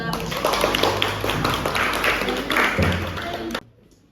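Classroom applause for a student group after their presentation, brisk close clapping from several pupils with a voice mixed in, stopping abruptly near the end.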